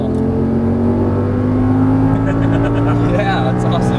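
An Audi R8 V10 engine on a track climbs steadily in pitch under hard acceleration, loud and close, with a voice talking over it.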